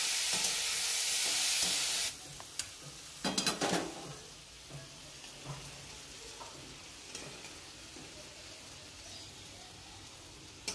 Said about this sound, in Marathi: कांदा ब्राऊन झालाय, आता टमाटा टाकून घेतला आहे त्याच्यामध्ये. हा पण 2 मिनिटं असं परतवून घ्यायचं.